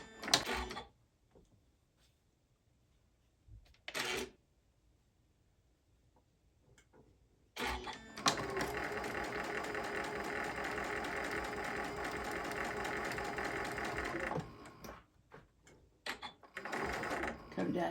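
A sewing machine stitches a fabric book cover in close, rapid mechanical chatter. Two brief bursts come first, then a long steady run of about six seconds and another short run near the end, with a person speaking during the pauses.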